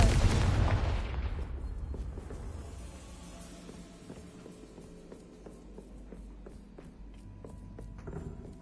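A Confringo fire spell in Hogwarts Legacy bursts loudly at the start, then its rumble fades into a low ambient hum with soft scattered knocks.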